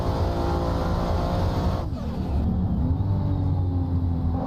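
A drift car engine in the Assetto Corsa racing game drones loudly and continuously, with a brief dip under braking before revving back up as it shifts into third gear.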